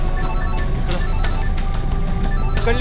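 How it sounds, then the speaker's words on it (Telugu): Inside a jeep in an action film scene, a phone rings in steady repeating bursts, fairly loud and continuous, with no talking over it. "అరే ఏంటి ఇక్కడ ఫోన్ రింగ్ అవుతున్న సౌండ్? జీప్ లో ఉన్నట్టుంది."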